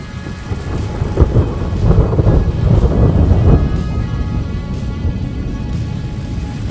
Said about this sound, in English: This rain just came on fast and hard, and we just had a clap of thunder